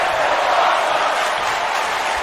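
A wrestling crowd in the video game WWE 2K19 cheers and roars as a broad, steady wash of noise throughout, with no distinct voices standing out.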